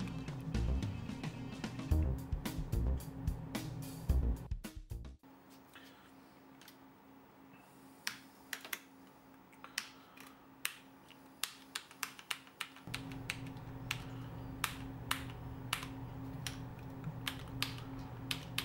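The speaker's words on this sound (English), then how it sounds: "The next few clips will show you the noise and anti-ghosting feature of this keyboard." Rapid typing on a CM Storm QuickFire Rapid mechanical gaming keyboard, with dense clicky keystrokes at first, a brief quiet gap, then sparser sharp key taps continuing close by over a steady hum.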